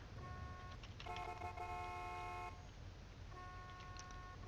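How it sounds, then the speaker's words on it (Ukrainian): An old-style car horn fitted to a BMW M5 F10 in the video game Mafia II, honked in two long steady blasts over a low engine rumble, fairly faint, with no talking. "Хто бачив таку BMW з таким сигналом, як у 50-х роках?"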